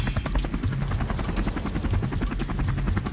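Inside a helicopter cabin in flight, the rotor thumps in a fast, steady rhythm over a constant loud engine roar, filling the whole clip with no speech.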